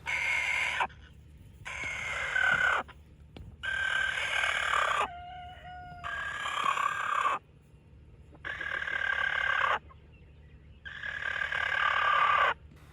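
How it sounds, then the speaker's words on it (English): A rooster gives a screech call again and again, about six loud, harsh calls of a second or two each in a steady rhythm, close by with a faint background hum. "I found that my chickens, mostly my roosters, make this screech call all the time."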